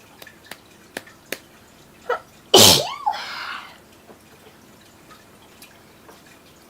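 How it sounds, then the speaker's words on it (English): A single loud, close human sneeze bursts out midway, preceded by a few faint ticking taps and followed by quiet. "I'm going to sneeze here in just a second."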